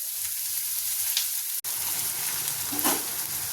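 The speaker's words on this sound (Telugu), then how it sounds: "ఉల్లిపాయలు కొంచెం మంచిగా ఫ్రై అయ్యేలాగా ఫ్రై చేసుకోవాలి" Onions frying in a pan for an Andhra-style egg podimas, a steady close hiss and sizzle with a brief stir partway through and a slight crackle near the end.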